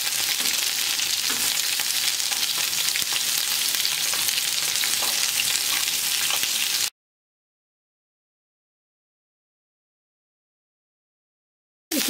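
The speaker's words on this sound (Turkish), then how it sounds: "İki tarafını da bu şekilde kızartacağım." Chicken shish pieces fry in a pan with a dense, steady sizzle for about seven seconds, then stop abruptly into silence.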